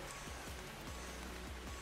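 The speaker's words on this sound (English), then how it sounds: "Just waiting for this damn fog and rain to go by." Rain with fog in Ark Survival Evolved falls as a faint, steady hiss. Soft, regular low thumps recur beneath it, and no one speaks.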